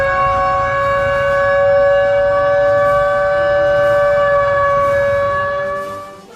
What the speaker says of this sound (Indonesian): yang diawali dengan membunyikan sirene